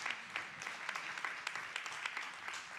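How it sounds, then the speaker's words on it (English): Audience at a Democratic primary candidate forum applauding, a dense, steady patter of many hands clapping at moderate distance with no talking. "let's clap it up for Helly."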